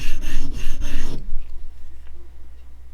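A knife is honed freehand on a sharpening stone, giving loud rhythmic scraping strokes for about a second before going quiet with only faint rubbing after.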